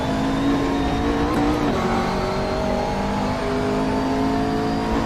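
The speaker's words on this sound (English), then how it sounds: "The GT3 cars are... Really? Doesn't sound like a V8." A GT3 race car engine in the Assetto Corsa racing game holds a loud, sustained revving tone with gentle pitch shifts over about five seconds, with no voices.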